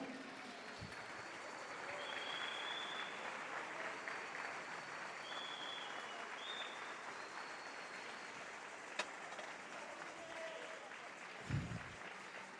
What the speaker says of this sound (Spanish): Alguien déle una ofrenda de palmas a Jesús.